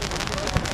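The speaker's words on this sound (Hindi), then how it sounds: "ये आतिशबाजी हो रही है" Fireworks crackle and pop at a Ravan Dahan festival on an open ground in Jodhpur, a dense steady rattle with one louder burst near the end, mixed with crowd noise.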